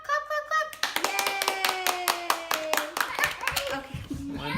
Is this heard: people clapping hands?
yes